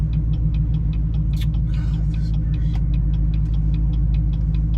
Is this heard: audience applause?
no